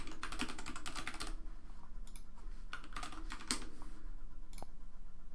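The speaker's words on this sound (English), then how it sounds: "I'll just leave the password as ABC and 123." Fingers type on a computer keyboard in quick, uneven bursts of close key clicks, with a few louder keystrokes and brief pauses between runs.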